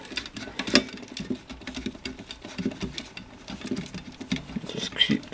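A plastic wire nut is twisted by hand onto a bundle of four electrical wires inside a transfer switch kit, making close, steady scratchy clicking and patter that continues throughout with only small pauses.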